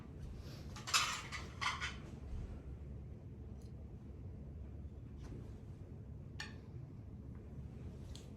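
Dishes clink and knock as thrifted bowls are handled while a Thanksgiving table is being set, with a few close ceramic taps early on and sparse light clinks later over a low background rumble.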